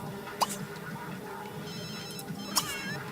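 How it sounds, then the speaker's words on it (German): Telephone ringing in The Sims 3 video game: two short electronic ring bursts, fairly quiet, over faint game background sounds. "Telefon."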